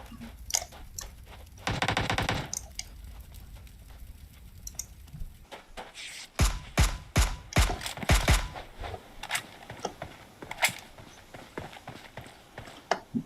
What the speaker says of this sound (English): plenty of rounds being exchanged